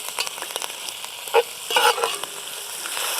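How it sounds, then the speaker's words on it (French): Bacon and sausage meat sizzling in a hot pan while being broken up with a spoon, a steady frying hiss punctuated by a few scraping stir sounds, with no talking. "On peut commencer à faire la chair de saucisse à l'aide de notre cuillère."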